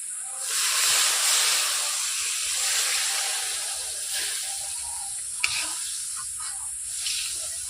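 Water added to sizzling fried masala in a pan for Bengali doi katla, a loud burst of hissing steam that settles into a steady sizzle, close by.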